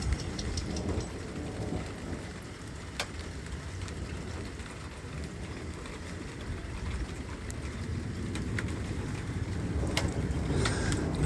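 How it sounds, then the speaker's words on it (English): Steady rain pours during an Iowa thunderstorm, heard from under a house soffit as a dense continuous wash with a few sharp drip or crackle spikes, growing slightly louder toward the end. "I'm trying to stay underneath my soffit here so I don't get too wet from the rain."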